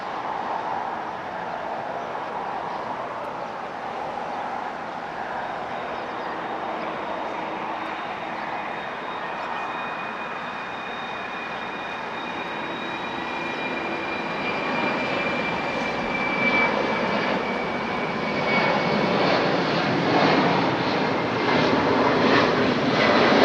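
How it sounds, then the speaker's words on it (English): A FedEx jet climbs out on takeoff at Los Angeles International Airport, its steady engine roar and whine swelling slightly louder toward the end, continuous and fairly distant with no talk. "Here goes the FedEx flight to Memphis."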